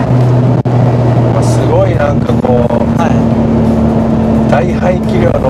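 A Nissan Skyline R33 GT-R engine drones steadily from inside the car while driving under throttle, a constant loud hum beneath ongoing conversation.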